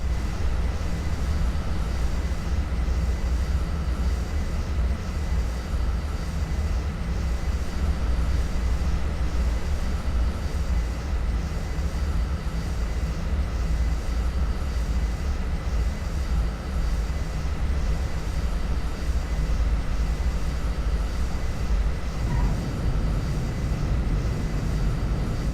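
In a flight video game, a jet plane comes in to land with a loud, continuous engine roar that holds steady throughout and shifts slightly in tone near the end.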